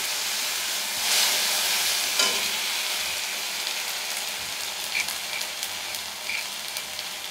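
Chopped tomato hits hot oil seasoned with nigella seeds in a pan for a fish curry, giving a loud, steady broadband sizzle and hiss throughout with a few brief spatters and bubbling pops, no voices.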